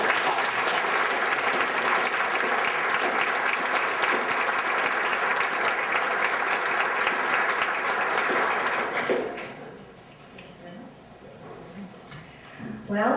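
An audience at an academic honors program applauds to welcome the next speaker, with dense, steady clapping that fills the room for several seconds, then fades out into scattered claps and quiet room noise.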